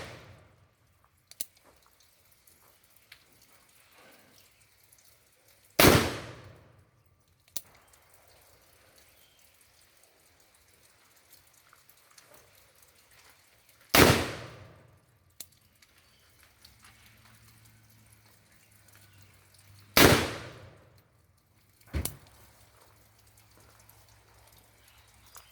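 An 1858 Remington percussion revolver fires four loud, sharp shots outdoors in rainy weather, spaced several seconds apart, each with a brief decaying echo and a quiet background between.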